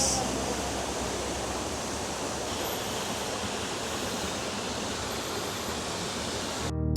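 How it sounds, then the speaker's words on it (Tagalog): Bahaw Falls in Catanduanes pours in a steady, dense roar of falling water, loud and close, with no break or change through the stretch. "So this is Bahaw Falls."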